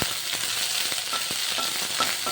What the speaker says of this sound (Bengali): সর্ষের তেল এখানে পাঁচ ফোড়ন দিয়ে দিলাম